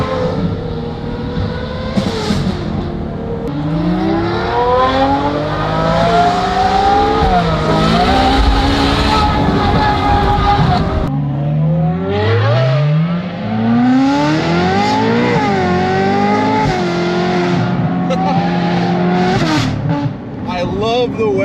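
Ferrari 812 or Ferrari California exhausts revving and accelerating, loud and close, the engine note climbing repeatedly through gear shifts with sustained roaring that dips and rises again over about twenty seconds.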